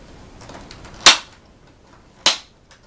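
A Dyson DC07 vacuum cleaner's filter housing clicking into place, two sharp, crisp plastic snaps about a second apart over quiet background.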